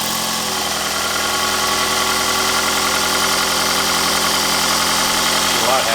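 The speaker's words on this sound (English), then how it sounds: "Engine seems to be running pretty good. A lot better than before." A 2009 Toyota Camry Hybrid engine runs steadily at idle after a misfire fault was fixed by replacing the catalytic converter, giving a continuous close hum with no breaks.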